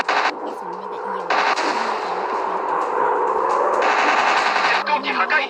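Rapid machine gun fire from a WWII fighter plane video game, loud sustained rattling bursts near the listener with brief gaps between them, a voice talking in the background.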